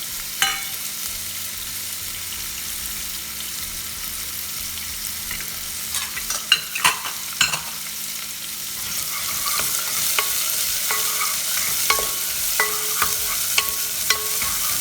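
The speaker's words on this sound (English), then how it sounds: "And some leftover onions and green peppers. I'll saute this a little bit for some time" Leftover onions and green peppers sautéing in a pan, a constant close sizzle of oil with bursts of spatula scraping and clacking midway, the frying growing brighter and louder toward the end, no speech.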